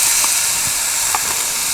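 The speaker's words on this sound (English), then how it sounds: "So we go in with the celery, the onions, and the carrots. And you can hear that sizzling." Celery, onions and carrots sizzling in a Dutch oven over a campfire, a steady soft hiss with a few faint pops.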